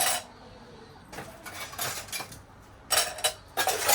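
Dishes, pots and utensils being washed at home in bursts of clattering and clinking, with quiet gaps between rinsing and stacking; no talking.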